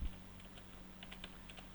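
Python code being typed on a computer keyboard: soft, faint key taps in a quick irregular patter over a low steady hum.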